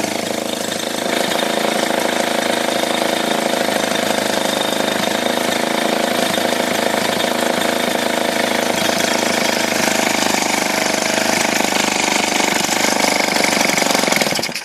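A Peugeot 103 moped engine idles loud and close, holding a steady buzzing drone for the whole stretch with no speech over it.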